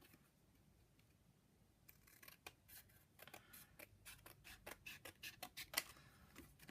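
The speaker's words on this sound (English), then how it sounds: "I'm just going to take me my drunker scissors and cut me beautiful clouds" Scissors snip through paper cloud shapes at a craft table, a quiet series of crisp irregular cuts that grow more frequent and a little louder toward the end, with no talking.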